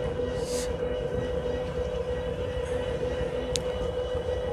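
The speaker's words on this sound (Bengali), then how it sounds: "আমি থ্রোটলটা বাড়িয়ে দিয়েছি আমাদের ট্রেনের, অ্যান্ড আমার ট্রেনটাকে চলা আরম্ভ করছে থ্রোটল দেওয়ার সঙ্গে সঙ্গে" Train pulling away after the throttle is opened in a train simulator game, a special train in Bangladesh; a low, steady rumble with a sustained hum and occasional faint clanks, moderately loud and continuous.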